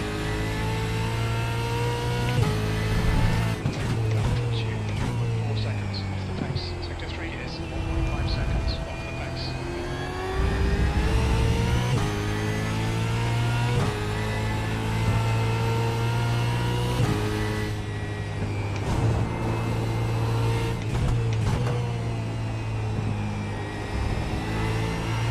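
Supercars race car engine in iRacing at Donington, accelerating and revving steadily with shifting pitch as it pulls out of a corner, loud and continuous, with a voice talking over it.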